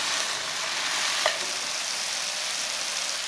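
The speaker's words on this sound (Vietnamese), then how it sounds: "mình cho vào một chút xíu nước để xào cho củ sắn chín." Dry jicama stir-fried in a pan with a splash of water and no oil gives a steady close hiss, with a single small clink partway through.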